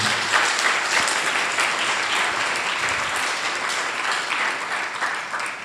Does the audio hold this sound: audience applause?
yes